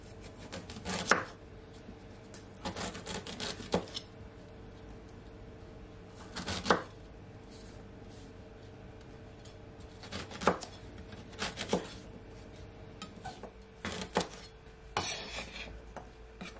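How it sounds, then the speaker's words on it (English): Knife chopping ginger into small pieces on a board, several short bursts of quick crisp cuts separated by pauses, close and fairly quiet, with no talking. "So you just want to cut your ginger guys in small pieces"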